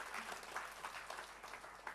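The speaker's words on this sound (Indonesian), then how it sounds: "Kita beri tepuk tangan buat Tuhan Yesus." Church congregation applauding in praise during a sermon, a dense steady wash of clapping that fills the whole moment without any voices on top.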